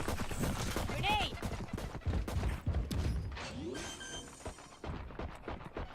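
Gunfire and a grenade blast in the tactical shooter Valorant, rapid cracking shots and mechanical clatter packed densely together, with voices speaking over the action.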